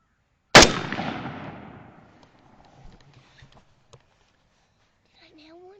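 A single loud shotgun blast goes off nearby during an outdoor turkey hunt, booming and then rolling away in a long decaying echo, followed by quiet and a faint distant call near the end.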